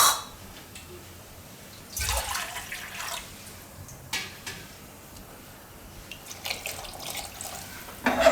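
Water is poured in for cooking in a pressure cooker during a bajra chapadi recipe, coming as a few short splashy bursts separated by quiet kitchen pauses.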